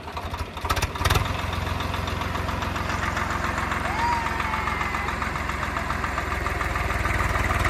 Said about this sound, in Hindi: ओ प्रिया ट्रैक्टर चला रही है